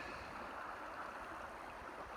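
Running stream water at a gold prospecting site, a steady, faint broadband rush that stays even throughout with no voices.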